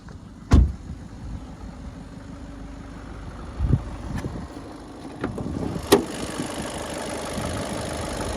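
A 2019 Skoda Octavia A7 1.6 TDI turbodiesel engine, 85 kW, idles with a steady low rumble, broken by a few knocks and clunks nearby.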